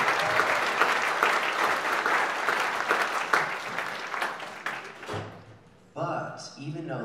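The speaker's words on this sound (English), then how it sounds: "Give them another round of applause." A school audience claps for a sixth grade band after a concert, steady applause that stops abruptly before a voice speaks.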